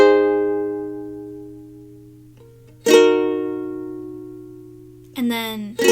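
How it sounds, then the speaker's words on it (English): Ukulele strummed down once per chord in the bridge of a song, each chord left to ring and decay, with three strums in a slow, even rhythm. "all you need to do is just strum down on each chord and let the chord ring out"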